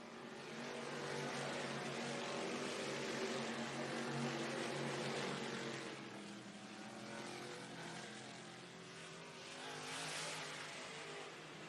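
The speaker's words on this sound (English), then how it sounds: "Still a good race back for third between Scott Humes and Kyle Whitney" North East modified race cars at Lake View Motor Speedway roar around the track, a loud, continuous engine drone that swells and eases slightly as the pack passes, with no talk over it.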